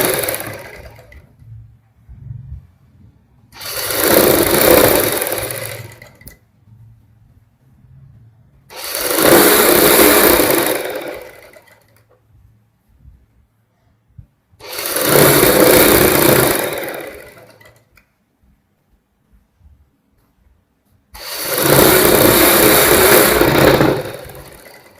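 A sewing machine stitches a sherwani jacket in four loud, separate bursts of roughly two to three seconds each, with quiet pauses between them and no talk.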